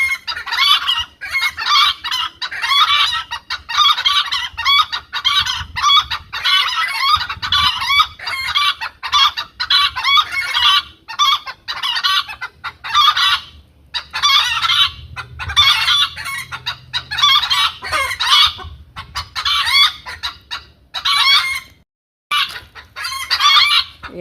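A hen clucks loudly and insistently after laying an egg, in rapid repeated bursts of squawks with short gaps, close and continuous for over twenty seconds.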